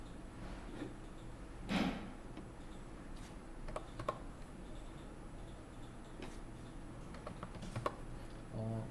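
Someone types numbers on a computer keyboard while working in 3D modeling software, making quiet, scattered key clicks with a few slightly louder taps over a faint room hum.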